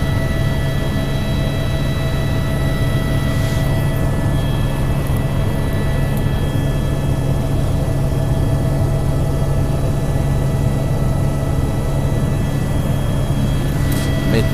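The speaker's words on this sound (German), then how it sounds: "mit dem Hubschrauber sind wir 4-5 Minuten oben" Helicopter flying up to Piz Corvatsch in the Swiss mountains, a steady loud engine and rotor drone holding evenly throughout with no voices.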